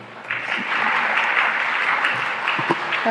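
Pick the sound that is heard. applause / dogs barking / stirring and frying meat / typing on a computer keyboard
applause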